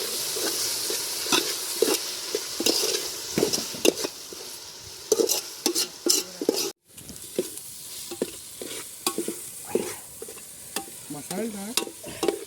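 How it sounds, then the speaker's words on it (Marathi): Onion and tomato gravy sizzles in a pan as spices are tempered for a riverside chicken dish, with repeated scraping stirs and clinks of a spoon against the pot, close and steady, no talking. "फोडणी देतो आपण आता"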